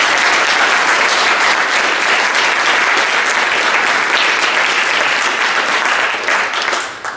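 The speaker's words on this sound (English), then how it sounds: "we could give them a round of applause" A loud, dense round of audience applause for staff at a 19th Amendment centennial celebration, sustained and even throughout before tapering off at the very end.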